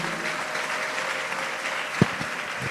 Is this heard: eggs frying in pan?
no